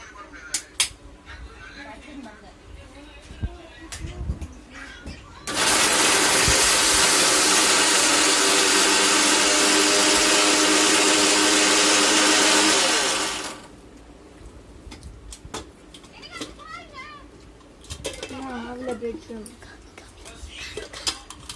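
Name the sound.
mixer grinder running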